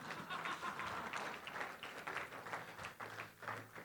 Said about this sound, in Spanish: Dale un aplauso a los que no entendieron